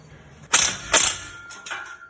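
Ratchet snugging the rear clamps on a 5-inch downpipe-back exhaust system fitted to a 2001–2007 GMC/Chevy pickup, giving two close, sharp clicking bursts followed by a softer, fainter pair.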